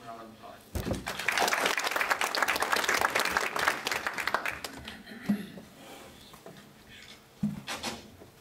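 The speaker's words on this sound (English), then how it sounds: "let's give him a round of applause" An audience at a cleantech business talk breaks into applause that swells for about three seconds and then tapers off into scattered claps, with voices and a few knocks afterward.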